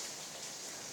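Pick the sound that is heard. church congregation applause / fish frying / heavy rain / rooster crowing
heavy rain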